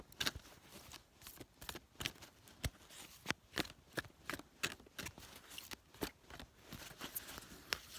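Tarot cards are shuffled and drawn in a quick, irregular series of crisp, close riffling snaps that repeat throughout, with no talking.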